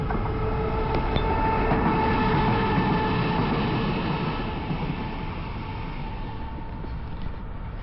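A train rumbles past nearby along the Camino Primitivo in Spain with a steady, heavy roar that slowly fades as it moves away.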